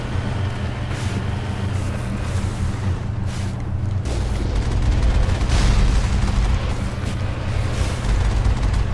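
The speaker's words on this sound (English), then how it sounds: "even when the gun overheats, you can still fire the cannon" Vehicle-mounted cannon firing in Mass Effect, dull booms and bursts repeating over a constant low engine drone, moderately loud, with no voices.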